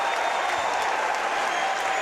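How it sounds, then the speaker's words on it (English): A packed college basketball crowd at a Hope vs. Calvin men's game gives a standing ovation, with dense, sustained clapping and cheering throughout. "Standing ovation for Parker Hovey."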